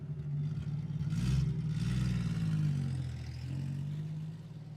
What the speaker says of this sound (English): started the engine, and pulled away from the curb.